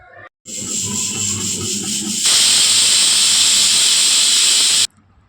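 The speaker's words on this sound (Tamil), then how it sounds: "4 விசில் விட்டு எடுக்கணும்." A pressure cooker on the stove, cooking a Tamil potato and moong dal kuzhambu, hisses loudly and steadily with a shrill whistle tone, then bursts into a fuller, louder blast of venting steam before it abruptly stops.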